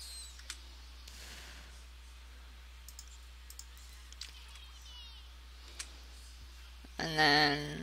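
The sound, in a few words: computer mouse clicking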